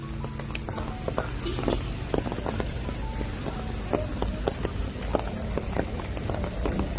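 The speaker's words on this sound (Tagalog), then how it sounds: "Because I'm not going anywhere kapag hihintayin ko pang huminto yung ulan." Rain falls steadily outdoors, a continuous close hiss broken by many sharp drop impacts on a surface, with no voices over it.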